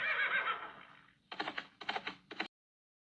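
A horse whinnies loudly, a long quavering neigh that fades, followed by several short snorting bursts before it cuts off.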